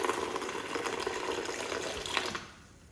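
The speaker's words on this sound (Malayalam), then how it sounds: "കുറച്ച് വെള്ളം ഒഴിച്ചാൽ മതി." Water pours steadily into a cooking pot in a home kitchen, a close, continuous splashing trickle that tapers off at the end.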